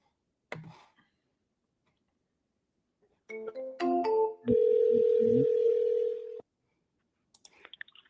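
A phone call being dialed, with a click, then a run of short tones and a steady sustained tone lasting about two seconds, followed by faint clicks, with no talk.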